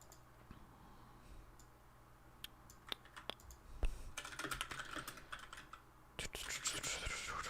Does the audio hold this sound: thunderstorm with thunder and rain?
no